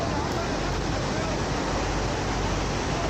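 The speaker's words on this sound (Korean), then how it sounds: "저 웅장한 폭포의 자태가 보이시나요?" Roaring water at Iguazu Falls in Argentina, a steady dense broadband rush with no break, loud and continuous for the whole stretch, heard from a viewing point near the Devil's Throat at low water level.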